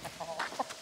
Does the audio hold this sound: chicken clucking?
yes